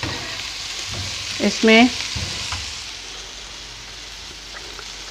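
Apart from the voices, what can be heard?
bell peppers being lightly sautéed in a pan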